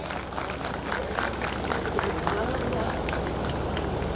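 An audience at an inauguration ceremony claps to welcome a guest onto the stage, a steady, dense patter of many hands heard at moderate distance that carries on throughout.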